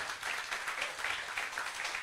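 Church congregation applauding during a Filipino pastor's sermon, a steady wash of many hands clapping at moderate distance, sustained and even for the whole stretch with no talk over it.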